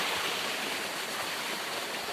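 Clear water flowing down from the hills, heard as a steady, broadband rush like a stream or small waterfall, continuous and fairly close, with no voices over it.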